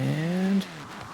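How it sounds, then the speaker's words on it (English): A car drifting in Forza Horizon 4 gives a sustained, rising engine whine with tire squeal that cuts off abruptly partway through, then leaves a quieter low rumble. "Let's go ahead and hit a drift."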